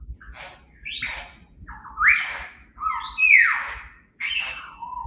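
Loud, close squawking bird calls come in about five separate bursts, harsh whistled notes sweeping up and down with short pauses between.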